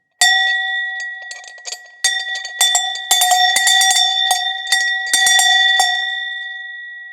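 A hand bell is shaken in a large house, ringing in bright clanging bursts with ringing overtones that linger between irregular shakes, loud and close with no voices.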